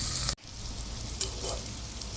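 Dry fish frying in oil with onion and green chilli for a gongura curry, a continuous close sizzle after a brief cut near the start, with a soft clink partway through.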